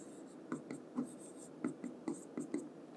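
Chalk or marker scratching across a board while a Class 9 maths lesson on Heron's formula is worked out, giving a series of short, quick strokes in an uneven rhythm. The strokes are close and moderately loud, with no talk.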